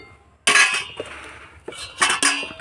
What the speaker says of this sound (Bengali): চাপা দিয়ে দেবো।